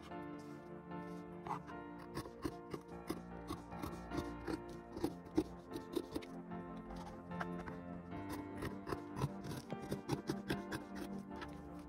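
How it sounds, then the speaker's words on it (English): Scissors cut out dress-form pattern pieces from fabric, a steady series of crisp snips running throughout over continuous background music. "I am cutting out the pattern pieces."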